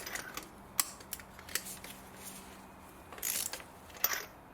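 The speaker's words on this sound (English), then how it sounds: "now we can undo the plugs" A ratchet undoes the spark plugs on a 2011 Audi A4 Avant 2.0 TFSI, heard as quiet, sparse clicks and light metallic taps with a short burst of ratcheting near the end.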